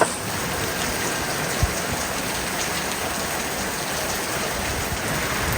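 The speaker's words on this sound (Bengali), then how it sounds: "মাছ নিয়ে ওয়েট করতেছি বৃষ্টি কমার জন্য" Rain falls outdoors in a steady, dense patter, continuous and close with a single sharper drip or tap partway through and no voices.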